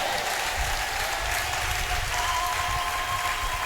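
A church congregation at a prophetic harvest revival service breaks into sustained applause, loud and continuous clapping with a faint crowd murmur beneath.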